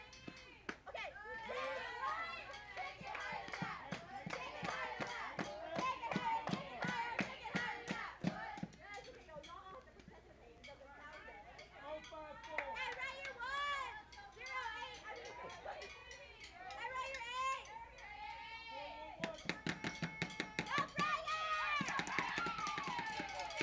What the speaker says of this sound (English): the softball team cheering in the dugout over here